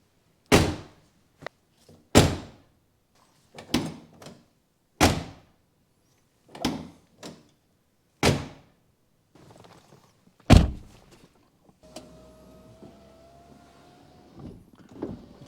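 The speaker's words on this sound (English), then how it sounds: "Much better sound when closing the door." A series of solid BMW E46 car door thunks, about eight separate closes spaced a second or two apart, followed by a faint mechanical hum at the end.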